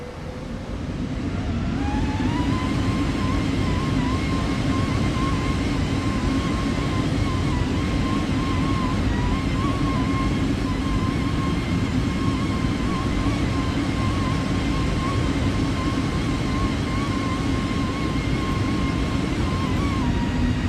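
Bhutan Airlines A320 airliner rolling out after landing at Paro, a steady loud engine roar with a rising whine that settles into a sustained tone, continuous for about twenty seconds with no talk.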